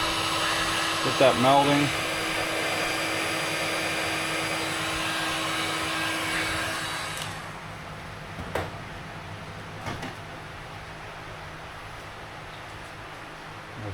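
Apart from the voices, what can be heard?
heat gun blowing on swimbait lure layers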